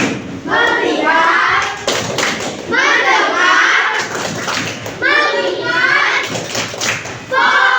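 Schoolchildren chant together in a classroom while clapping in a rhythmic focus routine, with bursts of group voices punctuated by short, sharp claps and thuds.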